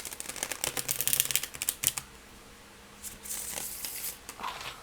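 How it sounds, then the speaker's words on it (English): A Lo Scarabeo tarot deck, the Dancing in the Dark Tarot, is shuffled by hand, giving quick, crisp riffling card flutters in bursts with short pauses and a softer patch of shuffling later. "I want to shuffle it for you guys before my phone dies"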